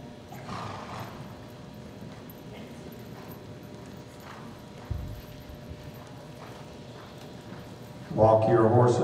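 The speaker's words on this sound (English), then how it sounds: "Canter your horses, please." Horses cantering in a hunt seat equitation class, the muffled rhythmic hoofbeats steady and mid-distance beneath arena ambience, with a burst of louder noise near the end.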